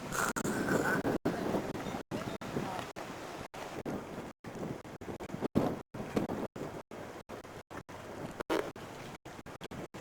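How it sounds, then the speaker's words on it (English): Strong gusting wind buffets the microphone in a continuous low roar, cut by brief dropouts, with faint talk at the start. "It's very windy."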